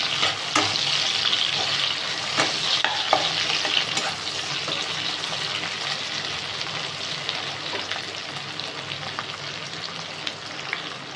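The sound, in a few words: chillies frying with onions in a pan for a Bengali fish curry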